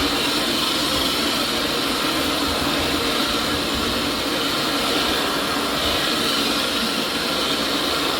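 A carpet cleaning suction machine runs with a loud, steady roaring whoosh over a very dirty carpet that was not vacuumed first, unbroken throughout and without any talking.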